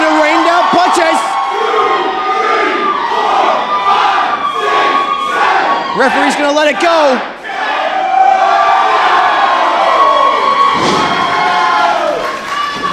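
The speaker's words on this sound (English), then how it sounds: "This cheering section is gotta be playing a huge factor in the confidence level for Breaux." A wrestling crowd at an Atomic Championship Wrestling match between Twisted Tate and Breaux Keller cheers, shouts and whoops loudly throughout, with commentators talking over the roar.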